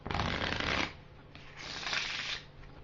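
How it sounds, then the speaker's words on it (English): Two rapid riffles of playing cards being shuffled close by, each a brisk fluttering burst lasting about a second, separated by a short pause. "a really good reverse shuffle"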